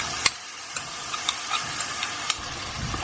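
Tomato goes into hot oil in a pan while cooking chickpea curry, giving a steady soft sizzle and frying hiss, punctuated by several sharp clicks and scrapes of a utensil stirring against the pan.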